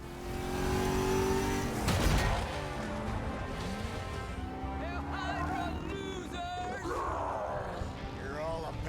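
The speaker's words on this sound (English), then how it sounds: "Ah, yeah, we're in Robbie's car" Car engine revving and accelerating in the Midnight Suns video game, with a loud surge and tonal whine that rises and shifts as the car pulls away, under excited voices talking.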